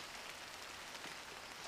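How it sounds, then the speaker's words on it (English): Rain falls steadily in thick bush, a soft continuous hiss of drops on leaves and ground, faint and even throughout. "Here comes the rain."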